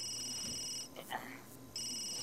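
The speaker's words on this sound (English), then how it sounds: "Your phone's ringing." A phone rings in The Sims, a bright electronic trill heard at the start and again at the end, split by a brief pause with a soft breathy murmur, the ringing moderately loud and steady.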